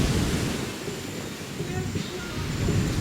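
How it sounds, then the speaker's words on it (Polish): Continuous roar of Caribbean Sea waves and surf near Barbados or Grenada, a broad steady rush with gusty wind noise, fairly loud and close, no distinct voices. "szum fal Morza Karaibskiego"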